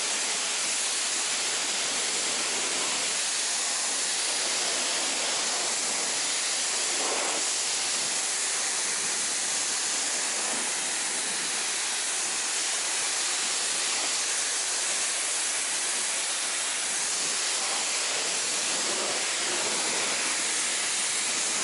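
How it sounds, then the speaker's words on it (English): A pressure-washer stream rinses foam off a 1957 Chevy Bel Air, giving a loud, continuous, close hiss of spraying water that holds steady throughout with no talking. "now we're getting ready to rinse down"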